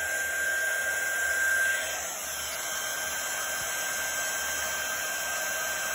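A heat tool blows a steady, hair-dryer-like whir with a faint high whine, close and continuous throughout, while it melts sticky embossing powder mixed with glitter.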